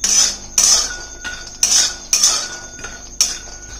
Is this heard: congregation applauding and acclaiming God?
no